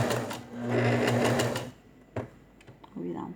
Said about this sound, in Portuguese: eu vou fazer na máquina pra vocês verem